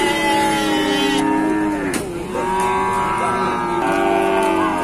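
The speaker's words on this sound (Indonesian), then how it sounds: "Ini ada lagi kerbau nih." Small water buffalo calves call at Pasar Wage, a Bumiayu livestock market, in loud, drawn-out, overlapping moos close by over busy market background noise.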